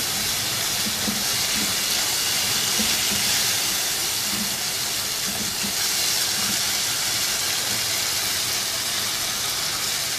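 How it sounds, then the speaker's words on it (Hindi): Chicken pieces sautéing in a hot pan for a savoury filling, a steady broad hiss and sizzle that stays loud and unbroken throughout, with no talking. "चिकन को भी थोड़ा सा सौटे करें।"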